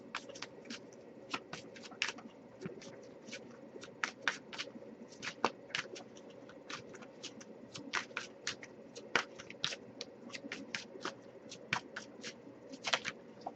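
Tarot cards are handled and picked up, giving a dense run of quick papery flicks and taps close by, fairly soft over a faint steady background hum.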